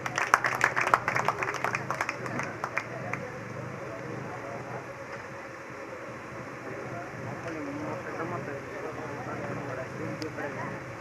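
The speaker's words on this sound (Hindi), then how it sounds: "एक बार ताली बजा।" An audience at an all-night bhajan devotional music program at Katesra Dham bursts into a quick round of clapping that fades within a few seconds, leaving murmuring crowd noise and talk.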